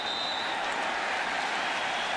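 A stadium crowd at a Falcons versus Patriots NFL game in 2009 gives off a dense, continuous roar, broad and steady without individual voices standing out.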